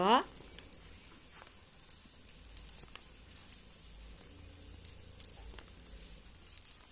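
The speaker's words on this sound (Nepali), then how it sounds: "अब पल्टाउँदै हामीले फेरि मजाले पकाउनु पर्छ।" An egg roll fries in a pan just after being flipped, giving a faint, steady sizzling hiss with a brief louder scrape at the start and occasional small crackles.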